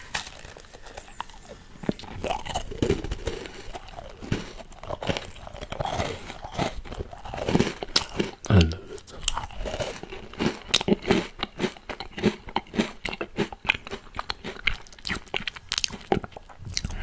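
Someone eats Oreo shaved ice (bingsu) close to the microphone. There are dense, crisp crunches and bites with wet chewing between them, irregular and varying in loudness throughout, and no talking.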